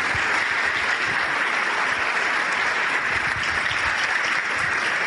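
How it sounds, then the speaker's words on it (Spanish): Seminar audience in Armenia applauding leaders with thanks: dense, sustained clapping fills the room at steady loudness throughout, with no speech over it. "Yo les pido para todos estos líderes un gran aplauso de agradecimiento."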